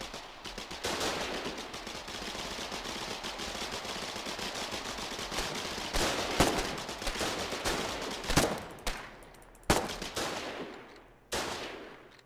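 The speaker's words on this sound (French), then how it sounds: "je me suis repris une décharge de shotgun" Rapid video game gunfire with shotgun blasts, a sustained rattling stream of shots that breaks near the end into several loud, separate bangs with short pauses between them.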